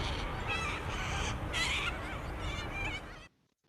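Raucous cockatoo calls fill the air beside the Cooks River, harsh overlapping squawks going on loudly for about three seconds before cutting off abruptly.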